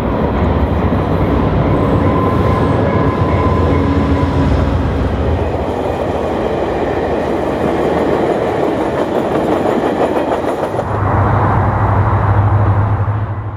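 A VIA Rail passenger train on Canadian National's Dundas Subdivision rumbles steadily past for the whole stretch with rhythmic wheel clatter, a loud low drone swelling again near the end.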